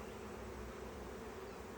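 Honey bees hum steadily inside a Langstroth hive, a dense, continuous close buzz with no pauses or voices.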